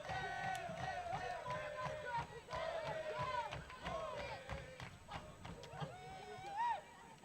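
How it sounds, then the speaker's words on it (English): Spectators at a North Greenville women's college soccer match cheer and shout after a goal, a moderate, uneven swell of voices with individual yells that rises and falls. "The North Greenville crowd got into that a little bit."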